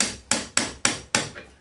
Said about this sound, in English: Then drive it in with a few taps from the hammer.